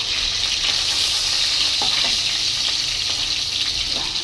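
Tengra fish frying in oil in a covered pan, giving a steady, dense sizzle throughout with a few faint scrapes of a utensil, close and continuous with no talking.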